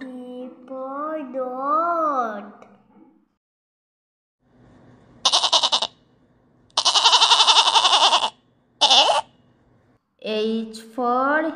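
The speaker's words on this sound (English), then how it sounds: "G for goat." A sung voice at the start, then a pause, followed by several loud, harsh bleats in short bursts, close and alone.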